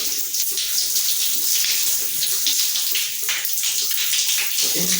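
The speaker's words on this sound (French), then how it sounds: "Bien mouiller les cheveux." Water running steadily from a tap or shower head while hair is being wetted, a close continuous hiss and splash with small shifts in the flow and no talking.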